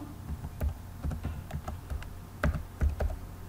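Keys clatter on a computer keyboard while a word is entered into a table in a word processor, a short run of distinct close clicks with brief pauses, no talking.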